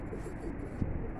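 Low, muffled cooing from newly released pigeons sits under a constant outdoor hum, with one brief thump partway through.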